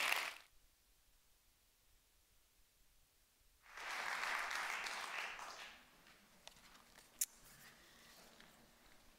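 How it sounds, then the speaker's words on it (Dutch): Audience applause at a literary evening, a faint burst of clapping near the start, then quiet, then a longer swell of clapping that lasts about two seconds before fading out. "Een applaus voor Tessa Leeuwsja en Fiep van Bodegom"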